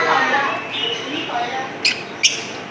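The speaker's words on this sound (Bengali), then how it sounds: "এই যে লাভবার্ড দেখুন।" Lovebirds in a small zoo aviary give a couple of sharp, brief chirps near the end, heard against a background of people talking and general ambient noise.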